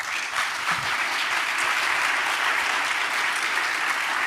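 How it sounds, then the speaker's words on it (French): An audience at a talk on the energy transition and critical metals applauds Élodie with a steady, even wash of clapping that holds at full strength for several seconds. "Quatrième salve d'applaudissements pour Élodie"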